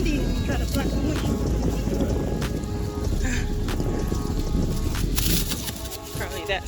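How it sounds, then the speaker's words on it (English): Wind gusts buffet the microphone on a Miami beach, a loud, rough rumble that rises and falls while people talk over it. "Oh, it's windy. You gotta block the wind."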